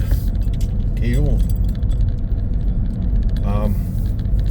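Inside a moving car on a drive, a continuous low road rumble runs throughout, with a couple of brief jingly rattles like keys and faint background voices.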